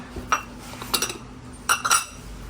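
Moroccan ceramic plates clink against one another as they are handled, sounding as a few sharp, bright knocks in two brief clusters, close by and without talk.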